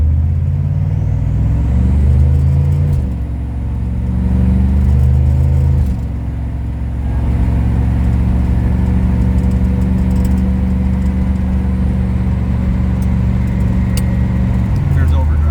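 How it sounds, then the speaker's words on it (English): A car with a swapped 2004R automatic transmission pulls away in drive, its engine rumbling loud and close from inside the cabin, with a dip in level as it shifts and then a steady droning cruise. "I'm going to leave it in drive here and we'll take off."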